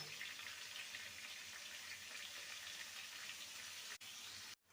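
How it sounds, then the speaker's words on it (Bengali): Potatoes dropped into hot oil with salt and turmeric for Bengali cooking give a steady, faint, close sizzle that runs throughout, broken by a couple of brief cutoffs near the end. "তেলটা ভালো মতন গরম হয়ে গেছে এবার আলুগুলোকে ছেড়ে দেবো লবণ আর সামান্য হলুদ গুঁড়ো"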